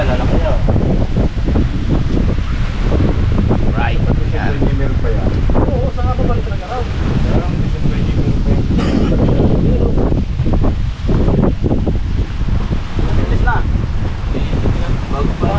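Strong gusts batter the microphone over a constant roar of heavy ocean surf ahead of a low-pressure storm, loud and continuous, with people talking intermittently beneath it.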